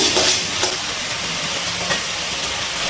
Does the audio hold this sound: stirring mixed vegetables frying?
yes